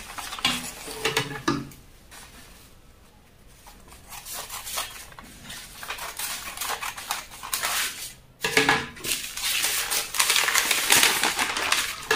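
Scissors cut open a paper flare skirt pattern with crisp, rustling snips that come in close bursts, pause briefly in the middle, then resume steadily.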